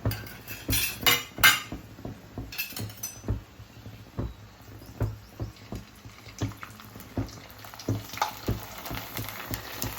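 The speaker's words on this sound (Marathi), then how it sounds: "इकडे कढईमध्ये तेल तापून घेतलं आहे आता आपण पापड तळूया" A burst of loud sizzling as a finger-millet papad hits hot oil in a wok, then quieter frying with a rhythmic series of soft taps and light clinks of utensils.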